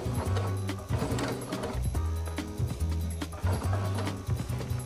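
A sewing machine stitches bias tape onto fabric in quick bursts of rapid mechanical chattering, pausing briefly between runs as the fabric is guided, close and clear with no talking.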